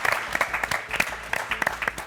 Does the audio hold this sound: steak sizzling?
no